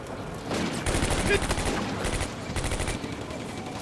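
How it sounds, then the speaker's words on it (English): Machine gun fire in the WWII North Africa video game Combat Mission: Afrika Korps, rapid bursts rattling in repeated volleys at moderate distance over a steady battle backdrop. "I think the machine guns are more effective in this case."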